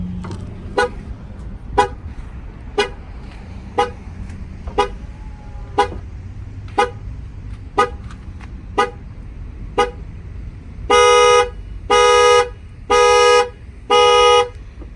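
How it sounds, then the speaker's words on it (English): A Chevy Tahoe (2019) alarm sounds: a series of evenly spaced sharp chirps roughly once per second, followed by four long loud horn honks in a steady rhythm, close by with no talk. "you will hear a countdown and you'll know that the alarm is gonna set off"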